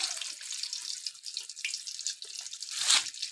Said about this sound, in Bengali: আমি সাদা তেলে দিয়ে দেবো মাছ।